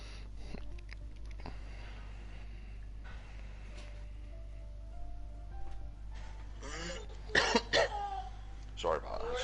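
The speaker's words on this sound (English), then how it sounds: "Still got a bit of a cough that I've had for a bit as well." Someone with a lingering cough coughs and clears their throat in a few close, harsh bursts near the end, after a stretch of quiet talking over a steady low hum.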